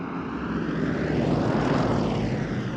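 Propeller aircraft of an airshow aerobatic team landing in chevron formation, a broad droning engine roar that swells and fades slightly, steady and fairly close.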